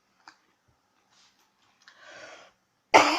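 A person with an existing cough coughs, a faint throat noise first, then a rougher breathy cough, ending in one loud, close, harsh burst that runs to the end.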